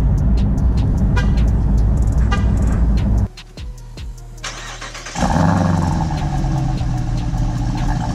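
2018 Jeep Trackhawk engine on a cold start: a loud rumbling idle, a brief cranking lull with whine, then the engine catching and roaring back to a strong, steady idle close by.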